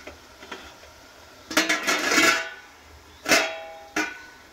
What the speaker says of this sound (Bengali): এবারে এর মধ্যে ডিশটা বসিয়ে দেবো, আর ওপর থেকে আবারও একই রকমভাবে ঢাকা দিয়ে দেবো।